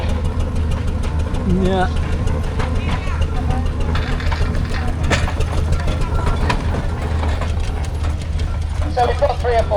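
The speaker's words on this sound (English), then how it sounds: "So we've got 3 or 4 engines going around now." Several full-size steam engines and a steamroller circle an outdoor show arena, giving a steady mechanical chuffing and rumble with hiss, close and continuous, while a voice speaks briefly over it.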